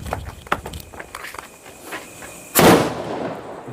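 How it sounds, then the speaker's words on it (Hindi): A sutli bomb, a large jute-wrapped firecracker, goes off in one loud close blast during Diwali in the mountains, after scattered footsteps and scuffing as people run from it. "अगला ये सुतली बम है, देखो इतना बड़ा होता है ये और ये बड़ा खतरनाक जलता है"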